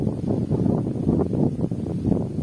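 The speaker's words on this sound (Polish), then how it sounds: "tak jak ten wiatr, który towarzyszy mi" Steady wind buffets and rumbles across the microphone for the whole stretch, loud and continuous with gusty fluctuations.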